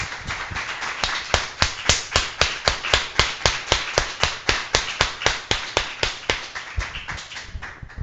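A church congregation applauding in a steady, rhythmic unison, with sharp, evenly spaced claps landing about three times a second, loud and close, with no talking over them.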